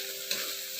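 Spice paste with bay leaf and lemongrass sautéed and stirred in a pan gives a soft continuous sizzle, faint and brief, with a light scrape of stirring.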